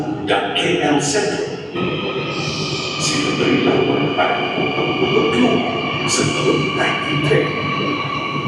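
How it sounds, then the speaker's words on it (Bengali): The KLIA Express airport train pulls into the platform at KL Central station, a loud continuous rumble with brake squeals and hissing tones over a busy, echoing hall, with people talking throughout. "এই হচ্ছে কেএল এক্সপ্রেস ট্রেন যেটা এয়ারপোর্টের টার্মিনাল থেকে সার্ভিস দেয়"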